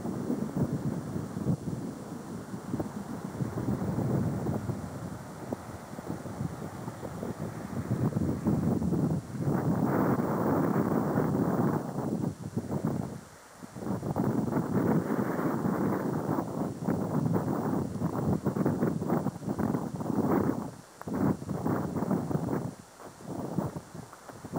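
Strong wind blows outdoors in the Scottish hills, a loud, continuous buffeting roar against the microphone with a few brief lulls, and no one speaking.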